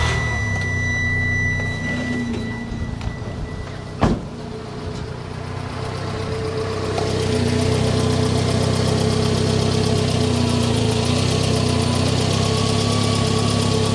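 A Subaru Sambar kei truck with 35,000 kilometers cranks and fires, one sharp catch, then settles into a loud, steady, slightly uneven idle that grows fuller and stays close for the rest.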